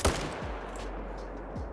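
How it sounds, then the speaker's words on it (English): Gunfire aimed at a crocodile in the hunting video game Call of the Wild: a sharp loud shot at the start, followed by a sustained low rumbling echo that fades out, with no voices. "Let's shoot this one in the head."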